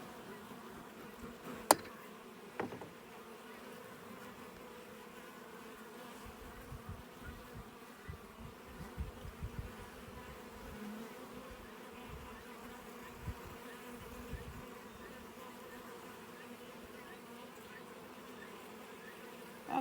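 Honeybees buzz at an open hive in a bee yard during an inspection with a smoker, a steady low drone from many insects close by, with a few faint knocks and no talk.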